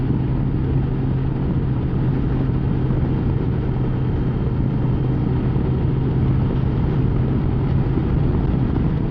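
Honda Goldwing motorcycle cruising on a mountain road, a steady smooth engine drone blended with constant wind rush, continuous and unchanging, no talk.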